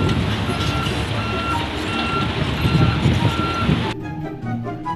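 An orange toy truck gives off steady, evenly spaced electronic reversing beeps over a loud buzzing toy motor, close up, before the beeping stops and a quieter mechanical hum remains.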